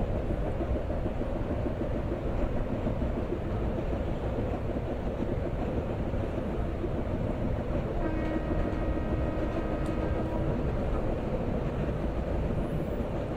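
Continuous heavy rumble of the Kamayani Express rolling along the Western Central Railway route in Train Simulator Classic, with soft clickety-clack and a short tonal whine near the end, steady and close.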